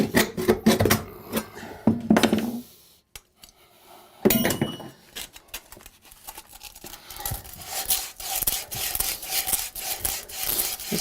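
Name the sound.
hacksaw cutting off bathtub pipe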